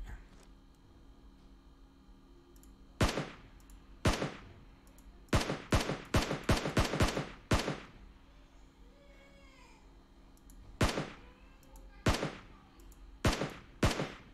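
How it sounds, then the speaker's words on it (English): Gunfire in the mobile battle game PUBG Mobile comes in scattered single shots and quick bursts of sharp cracks spread over several seconds. Quieter game sounds play in the pauses, and no one speaks. "Hey, I'm getting shot at."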